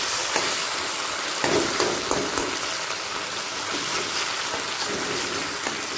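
Tomato and onions fry in a pan for pea curry, giving a steady, close sizzle with crackling pops and occasional stirring scrapes throughout, with no talking.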